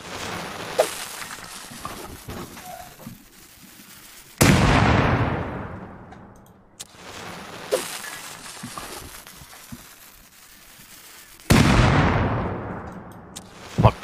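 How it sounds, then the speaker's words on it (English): Two bean can grenades exploding against a tool cupboard in the survival game Rust, each a sudden loud blast with a long decaying rumble, several seconds apart, with smaller clicks and thuds between. "He had 3 bean can grenades. I'm gonna try and blow his TC up."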